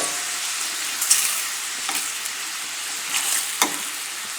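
Large shrimp and fresh sausage sizzling in a pan over a gas flame, a steady hissing fry with a few sharper pops and crackles spread through it, close by and with no talking.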